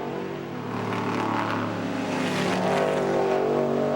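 Modified race cars roaring around the Lime Rock circuit in the 2010 Modified 100, a continuous dense engine drone that swells slightly as the cars pass, with no voices.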